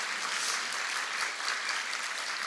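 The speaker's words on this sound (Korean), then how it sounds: "여기에 우리 뜨거운 축하의 박수" A church congregation at a Sunday service applauds a newlywed couple back from a Hawaii wedding, producing dense, steady applause that fills the room evenly throughout without a break, with no voices on top.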